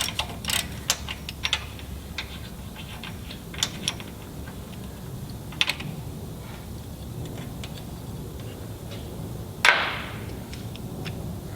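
Socket wrench working a 24mm bolt off a rear APT slider diff guard on a Land Rover Discovery 2, giving scattered metallic clicks and ratcheting ticks with one sharper clank near the end, close by and without talk.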